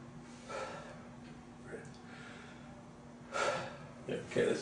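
A person takes deep breaths during a headache appointment: soft airy inhales and exhales recur a few times, close and fairly quiet, with a louder pair of breaths near the end.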